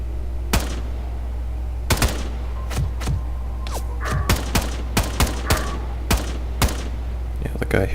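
Pistol shots from a night firefight in the video game STALKER Dead Air, a dozen or so sharp single cracks spaced irregularly over a steady low hum, each loud and distinct.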